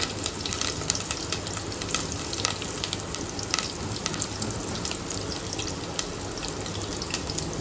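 Fennel seeds, onion and curry leaves fry in oil in a pan for a quail pepper gravy, giving a loud, steady close sizzle with crackles and popping throughout and no talking.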